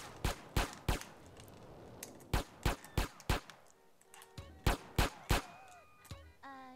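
Gunfire at a shooting range in GTA San Andreas: a string of sharp, loud shots at an uneven rhythm, with brief game sound effects near the end.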